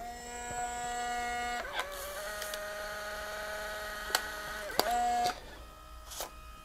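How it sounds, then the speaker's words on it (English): A small Fujifilm Instax Share SP-1 instant photo printer whirs steadily with a motor hum that shifts pitch a few times, broken by sharp mechanical clicks as the print feeds out. "it should start coming out of the printer in a minute."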